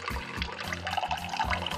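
Water is poured into a container up close, a short low gurgling flow with uneven glugs.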